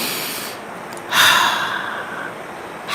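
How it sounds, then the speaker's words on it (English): One long, deep breath drawn in and slowly released, a close airy rush that swells then fades over a quiet background. "Let's breathe."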